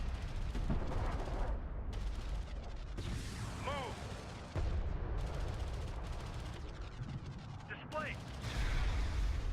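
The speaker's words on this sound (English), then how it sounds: "Armored vehicle is taking fire." Gunfire hits an armored vehicle in a real-time strategy video game, with dense rapid shots and booming impacts over steady battle noise, and a few short whistling effects.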